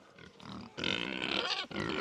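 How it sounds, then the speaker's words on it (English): Hungry farm pigs grunt and squeal at close range in the morning, a dense run of loud, rough grunts that breaks briefly before continuing. "the pigs are really hungry this morning, as they are every morning"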